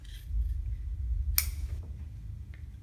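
Scissors trimming a thermoplastic thumb splint near the thumb joint, one sharp close snip followed by a fainter click, over a low background rumble.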